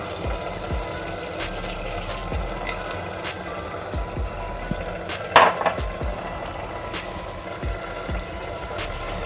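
A splash of water is poured into chicken keema frying in a pot for dum-style keema biryani. There is a steady low sizzle and stirring noise throughout, with one brief, brighter pour-and-splash burst around the middle.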